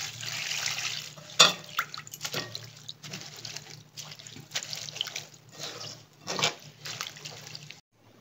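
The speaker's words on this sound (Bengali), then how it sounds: "জল দিয়ে ধুয়ে নেব।" Fenugreek leaves being washed by hand under running tap water, with uneven splashing and rustling bursts over a steady trickle from the faucet, close by and without talk.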